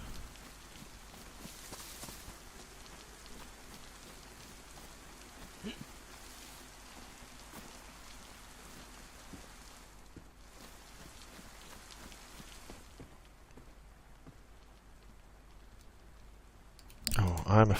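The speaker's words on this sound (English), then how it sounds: "It's definitely raining a lot today in Chernarus, isn't it?" Steady rain patters across the Chernarus map in DayZ, a soft even hiss with faint ticks, low and distant before a brief loud burst at the very end.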